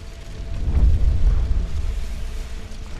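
Explosion in a Dragon Ball Super fan animation, a deep rumbling boom that swells and rolls on for about a second before trailing off into a low, sustained rumble.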